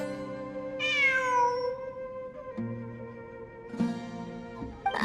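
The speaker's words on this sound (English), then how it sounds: "It really is a cat." A cat meows in the video game Genshin Impact, one drawn-out, rising-then-falling meow near and clear, followed by a softer second call over a quiet ambient background.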